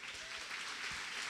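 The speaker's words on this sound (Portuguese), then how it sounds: "Aplauda Jesus de Nazaré." Church congregation applauding during an Easter Sunday service, a dense, soft, distant wash of clapping with no breaks.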